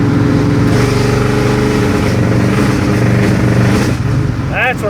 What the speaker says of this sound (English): This bog and backfiring issue.